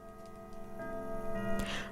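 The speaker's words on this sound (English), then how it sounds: "The clock tower chimes, the bells echo in the chamber, the sounds dull and eerie." Clock tower chimes in the visual novel game Cinderella Phenomenon, short tonal bell tones sounding over a ticking, with a bright metallic strike near the end, brief and clear with no voices.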